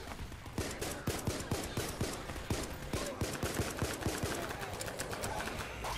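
Rapid bursts of gunfire ring out in Garry's Mod during a survivors-versus-zombies horde fight, sharp repeated shots in quick rhythmic volleys, loud and close, with no talk over them.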